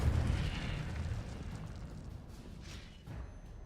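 An Incendio fire spell cast in the video game Hogwarts Legacy, a quiet whooshing burst of flame at the start that fades into a low rumbling tail with a couple of softer pops later.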